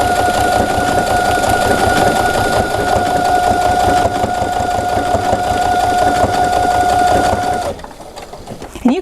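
A sewing machine runs a built-in applique stitch at a fast, steady pace, its motor hum and needle clatter close and loud for nearly eight seconds before stopping abruptly.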